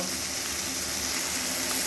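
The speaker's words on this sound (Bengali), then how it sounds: "এইরকমভাবে ঢ্যাঁড়সগুলো ভাজার সময় কিন্তু গ্যাসের আঁচটা হাই ফ্লেমেই রাখতে হবে" Okra (ladies finger) frying over a high gas flame, a loud, dense, steady sizzle of hot oil with no pauses and no voices.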